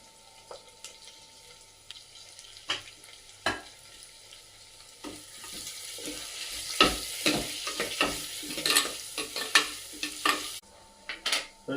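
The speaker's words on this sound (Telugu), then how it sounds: "ఇప్పుడు కరేమాకు వేసుకుందాం కొద్దిగా." Green chillies and curry leaves frying in a village-style clay pot, with a soft sizzle under repeated scraping strokes of a stirring spoon that grow busier and louder partway through. The sound is close and there is no talking.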